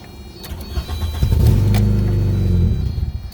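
A VW Jetta MK3 engine runs close by with a steady, throbbing rumble for a couple of seconds, then abruptly cuts out and goes quiet.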